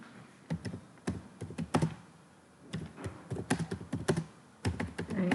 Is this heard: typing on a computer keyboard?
yes